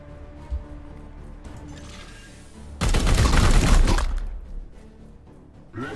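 Gunfire in Warhammer 40k: Chaos Gate - Daemonhunters: after quieter clicks and a short whoosh, a loud, rapid barrage of shots roars for about a second before fading into low background.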